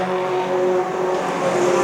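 Junior sedan race cars race at a night meeting, engines droning with steady, loud tones and a hint of tire noise, carried continuously without commentary over it.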